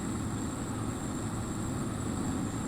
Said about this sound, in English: I do have the more motor sounds mod running on this particular tractor, just to give it a unique sound